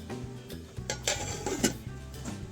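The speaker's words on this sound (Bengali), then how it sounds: "এবার আমরা ঢাকনা দিয়ে লাগিয়ে দেব" A metal lid set onto a cooking pot in a home kitchen, a few light clinks and taps of metal on metal, close and moderately loud, with a steady low background hum.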